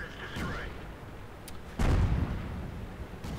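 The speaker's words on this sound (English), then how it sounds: "That was a pretty close artillery shell" An artillery shell exploding nearby in the video game World of Tanks: a sharp whistle and crack, then a heavy, loud blast with a rumbling tail, with speech in the background.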